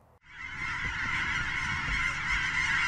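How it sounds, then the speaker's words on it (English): A large flock of Canada geese in Oregon's Willamette Valley honks continuously, many overlapping calls forming a loud, dense clamor that starts abruptly and carries on steadily. "a hungry flock of Canada geese"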